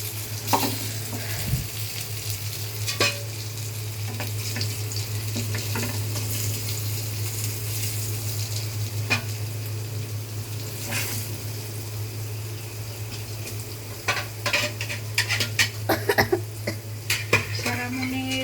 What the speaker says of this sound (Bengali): আমি আগে মাছ কি করছি মাছটা ভাজ ভাজতেছি তাই না